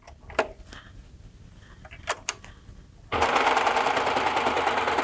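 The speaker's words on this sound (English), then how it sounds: "I've got 2 layers of 10-ounce denim here, and let's see how it works with that without touching anything else on the machine." A Baby Lock Accolade sewing machine stitches through two layers of 10-ounce denim, starting after a few scattered clicks and handling noises and then running as a fast, even, loud mechanical whir to the end.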